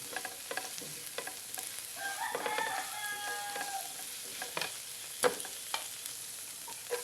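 Garlic sautéing in oil in a pan, a soft steady sizzle with close scraping stir strokes and occasional clinks of the spatula against the pan, fairly quiet, a faint rooster crow in the background.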